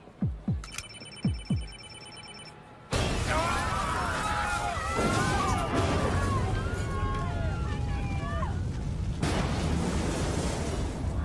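A bomb explosion in a French drama: after a telephone rings in short repeated bursts, a sudden loud blast breaks in and becomes a sustained, roaring rumble with scattered crackling and voices mixed in.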